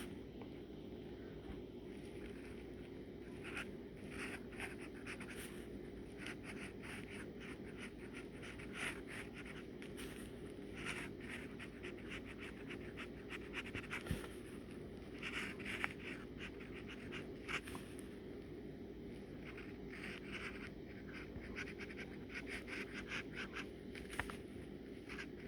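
A fountain pen inked with Noodler's Apache Sunset scratches across everyday copy paper in soft, continuous strokes, faint and close over a steady low background hum.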